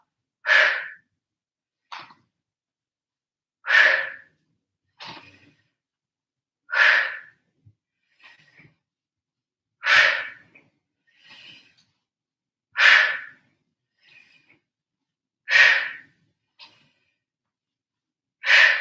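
Strong exhaled breaths during a yoga bootcamp workout, repeating roughly every three seconds in a steady rhythm, each a loud, close whoosh followed by fainter inhales between.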